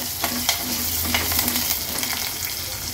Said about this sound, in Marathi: व्यवस्थित ही फोडणी आहे ना आता परतून घ्यायची